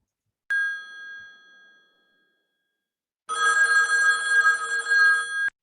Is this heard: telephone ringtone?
yes